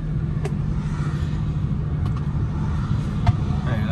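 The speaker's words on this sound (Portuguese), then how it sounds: "Aqui, entretanto, passou mais um carro de reboques." A tow truck passes along a road near a fire scene, its steady engine and tyre rumble holding at moderate level throughout with a few faint clicks and knocks, no talk.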